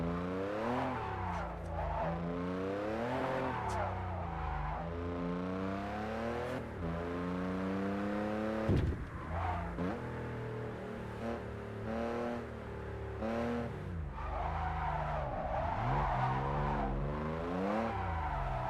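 A JDM car drifts with its engine revving up and down in repeated sweeping pitches, tires skidding and squealing through the turns, heard from inside or close by at a moderate level.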